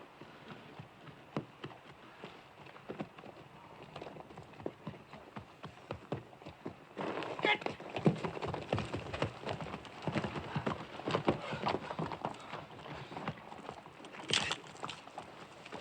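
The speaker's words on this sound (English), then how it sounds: "Get them horses under cover" Horses' hooves clip-clopping in a Western film scene, a steady run of sharp, repeated clops under a rain-like hiss that grows denser and louder halfway through, with no talk.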